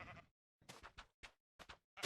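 Sheep in the Minecraft video game bleat in a series of short, wavering calls, about five bursts separated by brief silences, close and clear with no talking.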